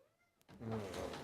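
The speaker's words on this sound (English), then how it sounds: "Okay, I've got a cat here." Pet cat at a home doorway giving a short meow after a brief quiet pause, close and fairly faint.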